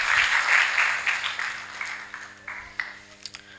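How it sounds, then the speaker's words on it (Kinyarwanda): An audience claps together in a hall, a warm, full burst of applause that gradually thins out into a few scattered, fading claps toward the end. "mumukomera amashyi kuko yakoze ibikomeye."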